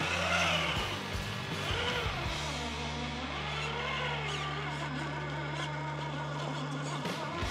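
An off-road vehicle on a homemade trail revs hard and spins its tires to clear out packed mud, a loud sustained engine roar with a steady high whine and a rising pitch sweep throughout.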